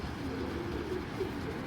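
Pigeons, including a round-headed one, coo in a soft, continuous low burble that is close and steady throughout, with no voices.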